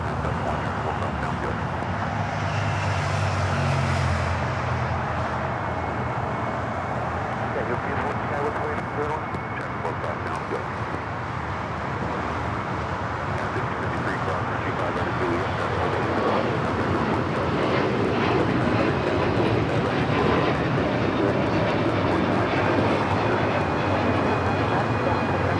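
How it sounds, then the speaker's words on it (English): A Delta Airbus A321neo takes off from the south side of LAX on a foggy day, its engines a loud, continuous broadband roar holding steady from start to finish. "Got a Delta A321 Neo next takeoff here on the south side."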